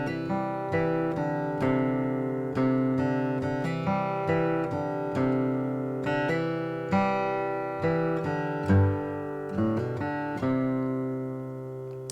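Acoustic guitar picking the isolated bass line of a song intro: clear, sustained plucked low notes in a steady, unhurried rhythm, played alone without talk.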